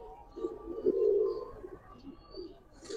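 Giribaz pigeons coo nearby, a soft low burble that swells to one louder drawn-out coo and then trails off into quieter murmurs.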